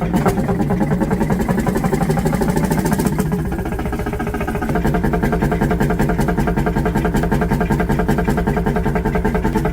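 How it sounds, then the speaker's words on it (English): A massive old diesel engine idles steadily just after start-up, a loud, close, rhythmic low chugging that holds throughout with a brief shift in tone partway through. "It gives off thick black smoke, a typical sign of a high-performance diesel engine."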